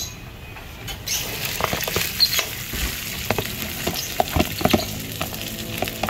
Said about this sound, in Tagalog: Ginisa na niya yung ano, bawang.